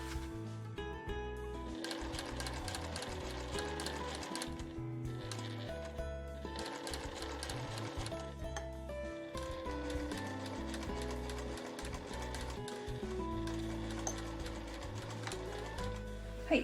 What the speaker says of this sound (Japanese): そうしたらこの部分からぐるっと1周1センチで縫いましょう。